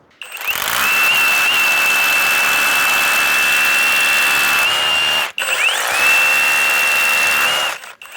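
A SCANS brushless heavy-duty rotary hammer drill runs in hammer mode. It gives a loud, steady, high whine with rapid hammering, in two long bursts split by a brief stop. The drill is close, with no talking.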